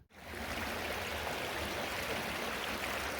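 A creek flows through the woods in a steady, full rush of water that starts abruptly and continues evenly close by, with no voices.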